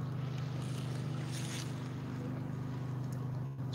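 A steady low motorboat engine hum carries across open water, faint and distant, with a soft wash of wind and waves.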